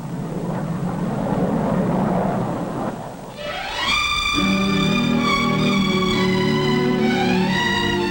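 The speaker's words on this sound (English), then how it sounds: "The first passenger jet clipper to fly the Atlantic." A passenger jet clipper, a large early airliner, roars loud and steady at first, then gives way to a rising whine and layered sustained engine tones that hold to the end, with no voices.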